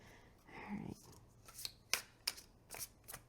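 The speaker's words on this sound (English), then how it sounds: "the overhand shuffling is pretty good. Not too slick and not too clumpy" A tarot card deck being overhand shuffled, a series of crisp papery slaps and riffles in quick irregular bursts, faint and close, after a soft rustle.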